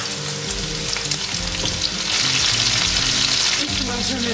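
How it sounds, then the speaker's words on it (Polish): Sausage and onion sizzle and crackle in hot oil, a loud continuous frying hiss with occasional stirring scrapes and music playing underneath. "Do smażącej się kiełbasy dodajemy cebulę"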